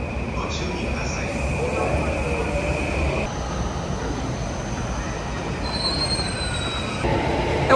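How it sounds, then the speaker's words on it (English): A Keihin Tohoku Line commuter train in Tokyo running with continuous loud wheel squeal and rumbling rail noise heard from inside, with tonal whines shifting partway through and announcements faintly underneath. "This is a Keihin Tohoku Line train"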